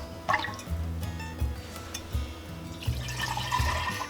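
Milk from a cow's teat squirts into a container during hand-milking, giving rhythmic, repeated liquid spurts against a low, steady background, close and soft with no talk.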